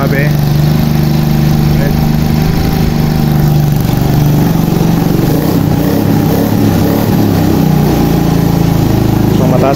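A Suzuki motorcycle with a newly fitted exhaust pipe idles steadily and loudly throughout, a low, even engine rumble close by, with someone speaking briefly over it.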